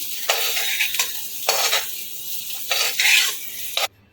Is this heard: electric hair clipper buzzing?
no